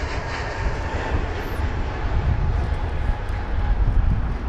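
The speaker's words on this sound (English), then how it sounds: "the WestJet aircraft is lining up on runway 27 right" An airliner at a London Heathrow runway gives off a continuous broad jet-engine roar, moderately loud and steady from a distance, with no clear break.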